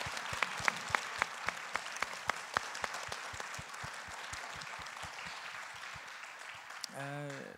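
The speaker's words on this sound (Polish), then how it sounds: "chciałbym, żebyśmy gorącymi oklaskami podziękowali naszym gościom" An audience in a Polish talk-show studio applauds warmly at the end of a discussion, steady dense clapping with a few sharper claps near, fading slightly before a brief voice at the end.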